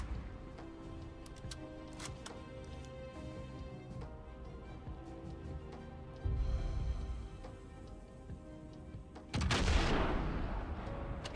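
Rifle fire in a shooting video game, a string of sharp shots over busy in-game noise, with two louder booming bursts standing out.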